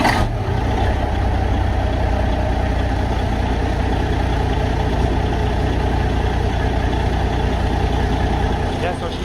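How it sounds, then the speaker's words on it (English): A Kenworth W900 truck's diesel engine turns over and catches at the start, then settles into a loud, steady, rumbling idle for the rest of the clip, with no voices over it. "Yeah, I'm gonna give you guys a little cold start, if it even starts."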